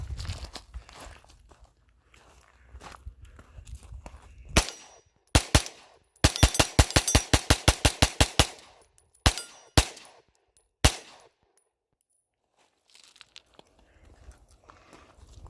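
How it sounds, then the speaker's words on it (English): Rifle fire at a range aimed at steel plates, a rapid dump of about 20 rounds in a fast even string of loud close cracks, followed by a few separate shots and quiet. "About 20 rounds coming your way."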